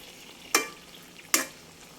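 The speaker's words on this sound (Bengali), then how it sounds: "তো এখন আমি একটু আলতোভাবে নেড়ে দিব" Raw mango pieces simmering in melted sugar are stirred gently, a soft bubbling hiss broken by two distinct scraping strokes about a second apart, close and with no voices.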